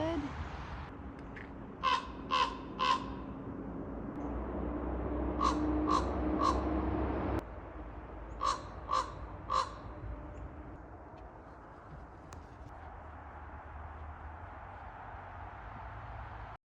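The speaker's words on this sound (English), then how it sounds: "The UP is the land of ravens." Ravens in Michigan's Upper Peninsula give three sets of three hoarse croaking calls from a moderate distance, spaced a few seconds apart over soft outdoor ambience, with a low vehicle rumble in the first half.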